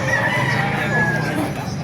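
A rooster crows in one long drawn-out call, fairly loud and close, over a steady background din at a chicken market in Baliuag.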